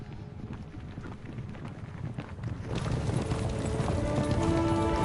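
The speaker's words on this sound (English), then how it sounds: "Oh, I hear the horses." Horses gallop in the medieval video game Kingdom Come: Deliverance 2, a thick rumble of hoofbeats under rushing wind that grows louder and denser partway through.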